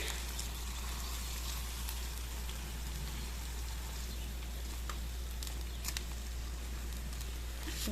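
A dipped tortilla frying in a pan for red enchiladas, giving a steady, dense sizzle and patter like light rain that holds evenly throughout, with a low constant hum beneath and no talking.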